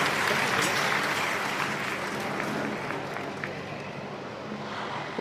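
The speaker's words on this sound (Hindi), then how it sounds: "वंदना सिद्धार्थ जी के लिए जोरदार तालियां।" Loud, sustained applause from an audience at a poetry event in Delhi greets poet Vandana Siddharth as she receives a memento, a dense wash of clapping with a low crowd murmur underneath.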